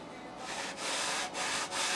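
Wood being sanded with a small sanding block to true an edge at 90 degrees, a few quiet rasping back-and-forth strokes with brief breaks between them, close and soft.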